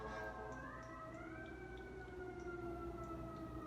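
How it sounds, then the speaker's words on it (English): Emergency sirens wail steadily in the distance, rising and falling pitch, heard faintly over a low background rumble. "Sorry about the sirens outside."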